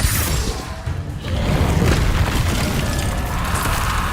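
A Confringo-style explosive spell blast from Hogwarts Legacy: a dense, booming rumble with crashing, whooshing texture that fills the whole few seconds, loud and close, with a brief dip before the roar swells again.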